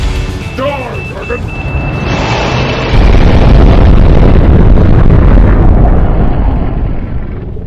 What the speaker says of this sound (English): I'm deploying the bomb.